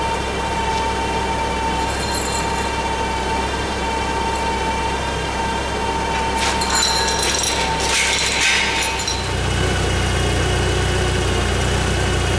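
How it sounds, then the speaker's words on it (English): A forklift engine runs at a steady idle while hoisting a 383 engine in a Super Stock race team's shop. The drone is close and continuous, and its low rumble deepens and grows heavier near the end. "So let's get the forklift overhead."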